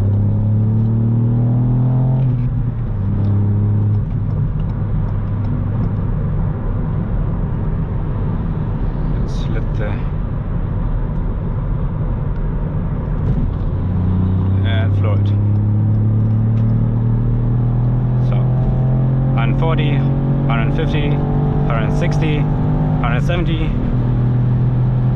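Ford Fiesta ST MK8 with a 1.5-liter three-cylinder engine accelerating hard on the Autobahn, its loud droning note climbing through the gears with audible shifts. Road and wind rumble sit underneath throughout.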